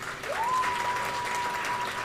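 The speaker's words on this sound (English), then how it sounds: "I want you to give them a round of applause" A graduation ceremony audience applauds in a steady, even wash of clapping, with a faint tone running through it.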